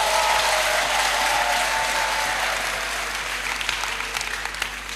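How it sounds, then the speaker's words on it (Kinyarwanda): An audience claps steadily at a worship gathering in praise of God, a dense, continuous wash of applause that thins slightly toward the end. "komera Imana yacu amashyi"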